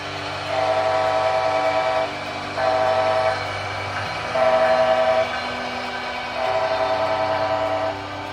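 An HO scale Bachmann Siemens ALC-42 Charger model locomotive's horn sounds in four sustained blasts over a steady low engine rumble, with brief pauses between each blast.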